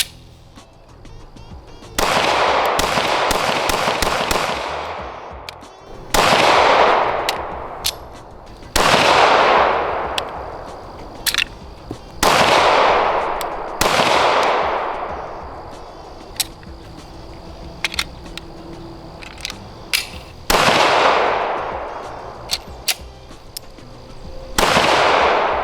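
Shadow Systems CR920XP pistol shots fired at an outdoor range, about seven loud, sharp reports spaced a few seconds apart, each ringing out with a long decaying echo, with quieter shots and clicks between.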